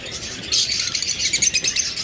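A caged pair of budgerigars, one yellow-wing and one green opaline, chirps in quick, bright bursts, close and fairly loud over soft background noise.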